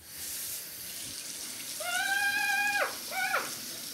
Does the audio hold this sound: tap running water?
yes